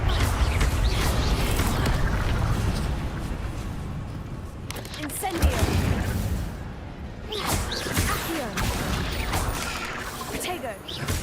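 An Incendio fire spell is cast in a Harry Potter video game, bursting out as rushing, crackling whooshes among busy game sounds, with a voice heard at times.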